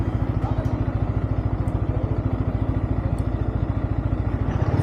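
Motorcycle engine close by in Leh, Ladakh, running with a rapid, even chugging pulse as the ride gets under way, plus a few light clicks and clatters over the top.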